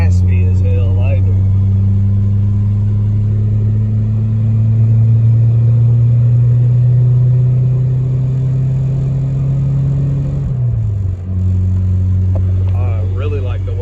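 Exhaust drone of a Chevy S10 drift truck heard from inside the cab, a steady loud low rumble while cruising, with a brief dip in engine note near the end as it shifts or lifts off.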